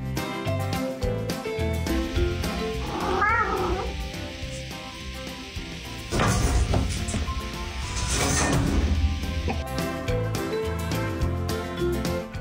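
A cat meows and caterwauls in a couple of drawn-out cries amid continuous music.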